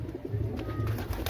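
Pigeons coo softly and steadily at a tournament pigeon house, with low repeated calls close by and a faint rustle underneath.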